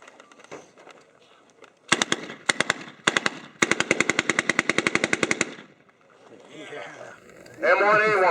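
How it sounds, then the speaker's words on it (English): An M1A1 Thompson submachine gun fires several rapid automatic bursts at a WWII-themed multigun match, loud and close, with brief pauses between strings and voices speaking before and after. "M1A1 Thompson submachine gun."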